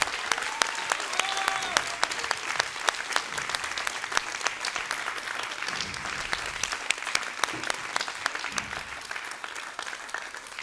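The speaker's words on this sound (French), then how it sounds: "Bravo, on peut les applaudir encore" Applause from an audience after a dance performance, dense and sustained for several seconds at moderate loudness, with a few voices faintly mixed in.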